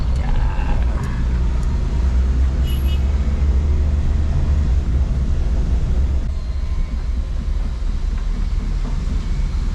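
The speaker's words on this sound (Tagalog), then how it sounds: "A big truck." A big truck rolls past on a suburban subdivision road, its deep engine rumble and tyre roar loud and steady throughout, with no talk over it.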